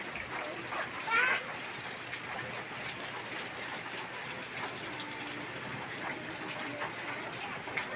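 Steady rain falls during an outdoor avocado harvest, making a constant close hiss and patter with a brief louder splash near the start.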